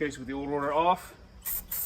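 Brake cleaner sprays in two short hissing bursts onto the front brake hub of a 2015 Chrysler 200C with the old rotor removed, right after a man's speech.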